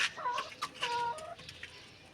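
Hen clucking in short, repeated bursts at close range, loud and alone with no voices.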